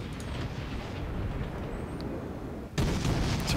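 Distant naval gunfire from warships in World of Warships, a steady low rumble of cannon fire and explosions. A sharp, louder burst lands near the end.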